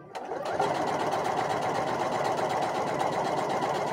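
A sewing machine runs continuously and close, stitching a channel for elastic on a McCall's 8217 garment, with a steady rapid mechanical chatter from start to finish.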